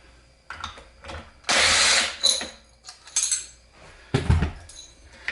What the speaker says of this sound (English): Impact wrench is the easiest way to do this.